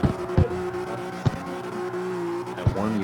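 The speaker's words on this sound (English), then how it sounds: "I'm slow and I'm still holding this car sideways." A car held sideways in a drift gives loud, drawn-out tyre squeals over a revving engine, with several sharp thumps along the way.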